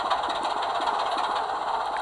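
A Class 24 model diesel locomotive from Sutton's Locomotive Works runs with a steady, even engine drone and a faint rhythmic throb throughout, close and fairly loud, with no talking.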